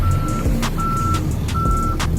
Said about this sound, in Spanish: Si pueden escuchar, se escucha la alarma.